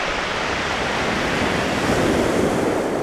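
Waves wash over stones on a shoreline in a loud, continuous roar of surf and rattling pebbles, with wind buffeting the microphone throughout.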